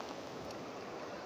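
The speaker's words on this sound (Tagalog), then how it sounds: "Grabe yung mga alon na naman ah." Small waves slap and wash steadily around a fishing boat on open water, a continuous close splashing hiss with no voices over the brief stretch.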